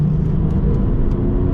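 Porsche 996 Turbo with 9FF tuning rumbles loudly through a roundabout from inside the cabin, a steady deep engine drone with slight surges, no talking.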